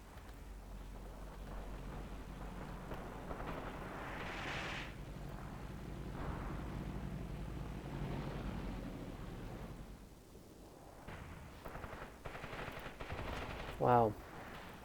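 Distant heavy machine gun and 20mm cannon fire crackles in bursts during a Soviet assault on fortified German positions in the war game Graviteam, with a sharper burst near the end.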